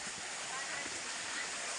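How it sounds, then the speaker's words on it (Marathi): Water rushes down a monsoon waterfall along a walking path, a broad steady roar filling the short stretch at moderate level without pause. "धबधब्यात ना आपण चालत चाललोय"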